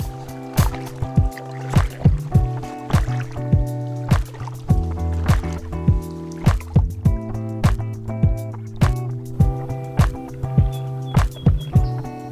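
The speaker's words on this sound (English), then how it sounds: "We're just going to paddle up this channel and then get into some of the open water" A packraft is paddled through shallow tidal channel water with steady, rhythmic strokes. Close, regular splashes and drips repeat about once a second against a sustained tonal background hum.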